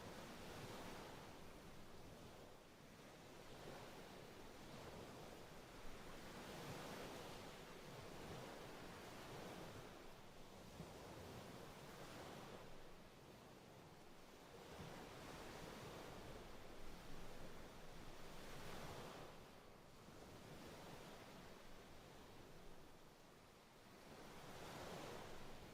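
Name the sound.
ocean waves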